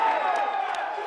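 A crowd cheers and claps at a boys volleyball senior night match between Durfee and Braintree, a brief burst of indoor cheering with a commentator's voice talking over it.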